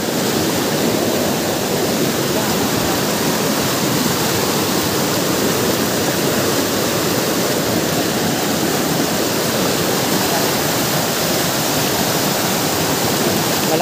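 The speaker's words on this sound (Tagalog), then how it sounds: "Hindi ito basta-bastang falls lang." A large, powerful waterfall roars steadily and loudly at close range, a dense unbroken rush of falling water with no voices over it.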